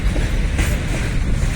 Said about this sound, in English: In 3 lines there are 3 trains running all together.